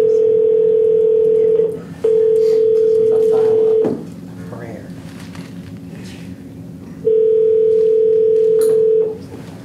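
A steady telephone dial tone hums loudly in three long stretches separated by short gaps, with faint room noise and a few clicks in between.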